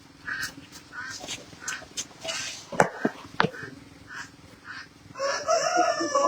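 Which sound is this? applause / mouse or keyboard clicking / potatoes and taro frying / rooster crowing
rooster crowing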